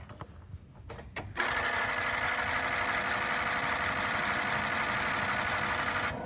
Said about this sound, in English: Those are the injectors cycling.